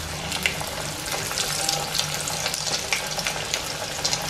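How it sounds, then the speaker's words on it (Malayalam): Snacks being dropped one by one into hot oil in a frying pan, giving a continuous soft sizzle and bubbling hiss, moderately quiet and close, with small crackles and no talking. "എണ്ണ ചൂടായി, ഇനി ഓരോന്നായിട്ട് ഇട്ട് കൊടുക്കാം."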